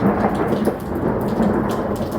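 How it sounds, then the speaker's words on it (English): Thunder rumbles during a heavy rainstorm, a loud, low rolling growl layered over dense, steady rain hiss, close and continuous without pause. "There's lightning up there."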